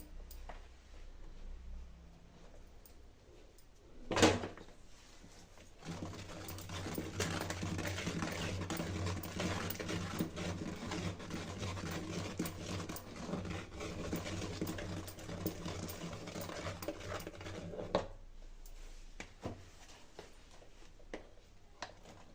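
Rice flour dough for ariselu being mixed by hand in a pan off the stove, a steady soft scraping and squishing texture lasting about twelve seconds, quiet and close with a brief knock before it.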